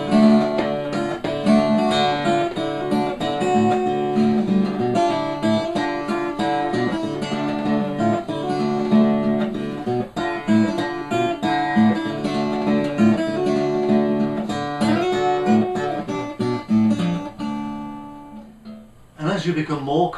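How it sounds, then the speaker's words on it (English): Acoustic blues guitar melody picked with a single finger, the small grace notes between main melody notes left out; steady, close, moderately loud playing with a dense tonal texture, ending in a brief pause near the end. "So what I do is to miss these grace notes out, these little notes in between the main melody."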